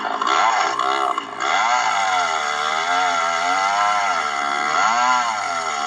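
A chainsaw mill cuts a slab from a log, the saw's loud, continuous high whine holding steady throughout with slight rises and dips in pitch as it bites, no voices present.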